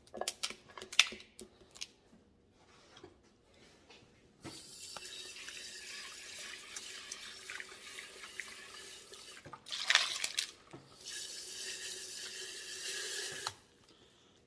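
Water running from a tap over tumbled rocks as they are rinsed in a sink, two bursts of flowing water with clinking and rattling of stones between them, fairly quiet and close.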